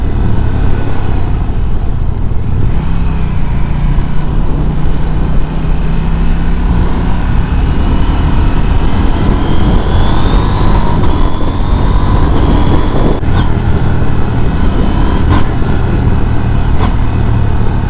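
An A2-licence motorcycle pulls hard in second gear, its engine droning loud and close with rising pitch as it accelerates, wind rush mixed in throughout.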